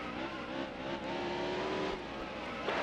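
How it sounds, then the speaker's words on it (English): Race car engine noise from NASCAR Heat Evolution, a steady high drone with a rising pitch as a NASCAR stock car goes by late in a career-mode race, loud and continuous for about three seconds with no talking. "There goes Brian Scott by."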